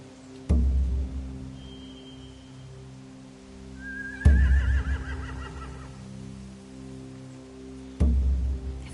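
Horses whinny in The Walking Dead video game, with three loud thumping impacts spaced a few seconds apart and a long, wavering neigh between the second and third, close and clear with no talk.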